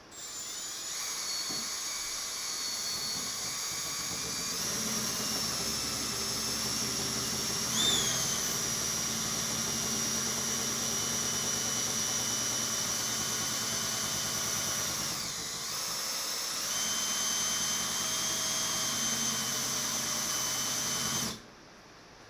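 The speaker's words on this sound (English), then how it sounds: "we're using a drill paddle to mix this" A drill fitted with a mixing paddle runs steadily on low, stirring resin in a bucket for a tape dam pour; a continuous whining motor hum with brief dips, close and loud, ending abruptly when it stops.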